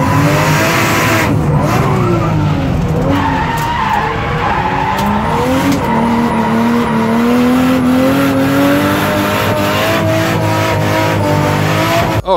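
A classic drift car holds a long, loud tire squeal while its engine revs and wails up and down in pitch, continuous and close for the whole stretch.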